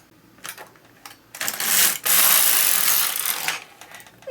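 A knitting machine carriage is pushed across the needle bed to knit a single row, giving a loud, continuous mechanical whir and clatter preceded by a few short clicks.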